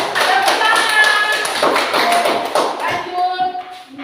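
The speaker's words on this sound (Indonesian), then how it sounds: "Tepuk tangan dulu." Hand clapping in a classroom lesson, a run of quick, fairly close claps with taps and thuds that carry on steadily before thinning out toward the end, with no talking over it.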